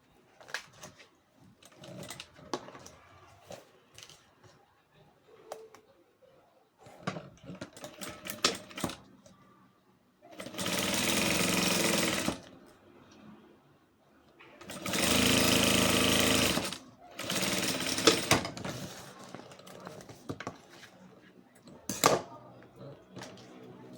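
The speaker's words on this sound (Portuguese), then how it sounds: "Também vou fazer uma costurinha aqui, bem aqui nessa parte aqui da dobrinha do viés" Sewing machine stitching a fold of bias binding: two long, loud, steady motor runs of a few seconds each, between stretches of quieter handling and talk.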